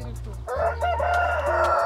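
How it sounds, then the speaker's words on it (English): A large rooster crows at a farm breakfast spot in Ankara, Turkey, where hens lay fresh eggs. One long, loud, sustained crow sounds close by over a steady low hum. "Look at the rooster. So big."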